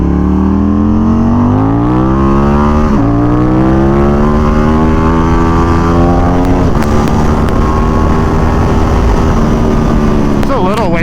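A street motorcycle pushed toward full throttle, its engine revving hard with a steadily climbing whine that rises through several surges, loud and close under wind buffeting.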